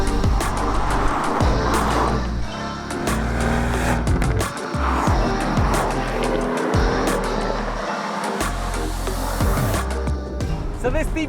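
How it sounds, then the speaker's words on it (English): A V12 Aston Martin DB11 Volante, roof down, drives on the road with a loud engine roar that rises and falls through gear changes, wind rush throughout, and someone talking over it. "So this DB11 Volante, roof off, effectively. 503 brake horsepower, identical power to the Vantage in front of me now with Tiff driving."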